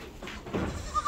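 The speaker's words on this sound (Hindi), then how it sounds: "रेड आइस का बकरा है।" A red-eyed Sojat goat at a goat farm in Nallasopara gives a short, close bleat amid farm background noise, with no talk over it.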